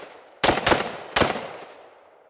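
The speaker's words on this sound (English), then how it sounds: "You know, just a few shots off of this, really." Three sharp, loud gunshots ring out from a firearm fitted with a Tacti-Net brass catcher, two fired in quick succession and a third after a short pause, each leaving a brief decaying echo.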